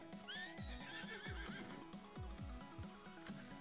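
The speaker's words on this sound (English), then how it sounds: "You can rear your horse by pressing R1 and square, or RB and X." A horse rears and whinnies in the video game Red Dead Online, a loud wavering neigh over rhythmic thudding hoofbeats that continue steadily throughout, with no voices.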